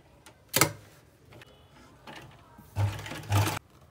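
A sewing machine stitches plazo fabric in short bursts, quick rattling runs separated by pauses, fairly close and moderately loud.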